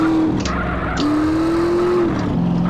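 A car in the GTA San Andreas video game drives and skids, with a loud, steady engine tone that shifts pitch in steps as it slides, close and alone with no voices.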